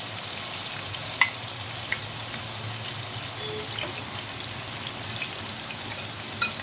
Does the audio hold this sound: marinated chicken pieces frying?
yes